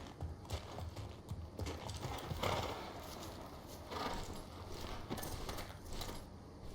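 Horse hooves clip-clop steadily on a path in the video game Castlevania: Lords of Shadow, with a brief whinny-like tone amid a dense, rumbling game soundscape.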